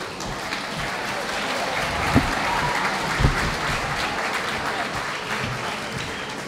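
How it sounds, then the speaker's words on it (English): Steady, moderately loud applause from students and parents at a school wing ribbon cutting ceremony carries on evenly throughout, with a couple of sharper claps standing out and no talk over it. "give them a huge round of applause"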